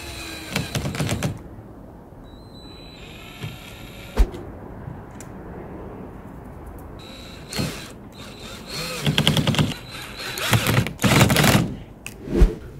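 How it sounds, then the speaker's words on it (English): Screws being driven to fix an anti-climb security spike strip onto a garden fence, heard as bursts of clicking, ratcheting mechanical noise separated by quieter pauses, close and moderately loud. "Align the strip where you want it and screw in the two ends, making sure all is firmly secured."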